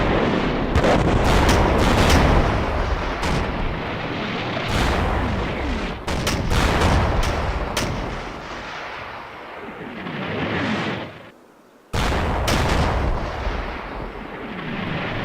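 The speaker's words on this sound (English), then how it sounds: "I've ordered the mortar team to start firing down here again." Mortar and artillery fire in the Combat Mission Market Garden wargame, a loud, continuous barrage of booming blasts and crackling gunfire that briefly drops out near the end before resuming.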